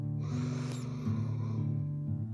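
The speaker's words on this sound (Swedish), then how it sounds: "Här ska vi nu andas in genom näsan." A slow, deep inhale through the nose during a guided breathing meditation, soft airy breath running steadily for about two seconds over a low background hum.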